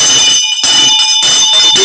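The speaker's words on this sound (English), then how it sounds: "That is what the bell was ringing for." An alert bell rings loudly and continuously, with piercing steady tones broken by a few short gaps.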